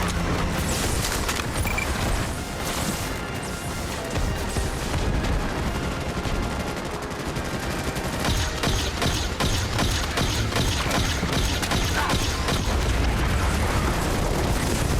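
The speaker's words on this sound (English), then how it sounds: "And look at these explosions, they never get old." Dense, continuous video game battle noise: booming explosions layered with rapid gunfire bursts, loud and chaotic throughout.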